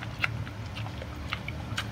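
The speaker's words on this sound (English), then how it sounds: "You're chewing." A pet dog, an older one with arthritis, chews with short, faint, irregular bites and clicks, close by and quiet.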